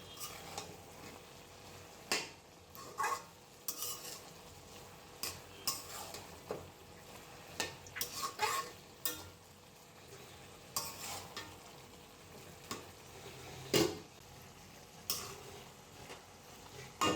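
Cabbage fry (badhakopi bhaji) with coriander leaves being stirred in a pan over raised heat, giving soft scraping and occasional clinks of a spoon against the pan over a low sizzle, with irregular sharper knocks.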